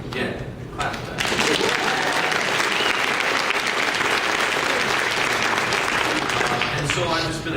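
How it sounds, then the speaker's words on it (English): A convention panel audience breaks into loud, sustained applause with cheering and scattered voices, the clapping swelling suddenly after a second and holding steady before tapering off. "clap for that"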